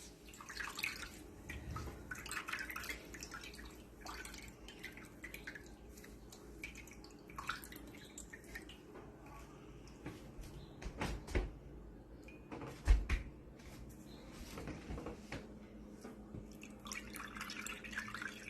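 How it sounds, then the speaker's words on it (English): Homemade almond milk drips and trickles as the pulp is squeezed by hand. The sound is quiet and close, made of irregular small drips with a few louder splashes. "I think I've squeezed out the whole milk."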